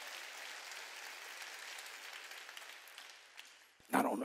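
A church congregation claps together during a Korean Wednesday worship service, a steady wash of applause that runs for several seconds, tapers slightly, then swells again near the end.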